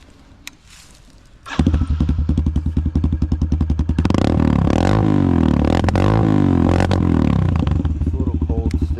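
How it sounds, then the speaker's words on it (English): Pit bike with a Big Gun Evo exhaust, still a little cold, kicking into life with a loud crackling start, then idling in a rapid clatter before sharp throttle blips rev it up close by. "start up and a rev here."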